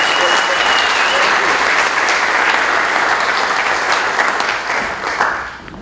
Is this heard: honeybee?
no